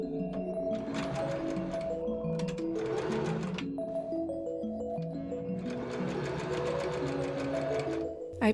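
A sewing machine runs a straight stitch along velvet bodice seams, whirring in several bursts with brief pauses between runs.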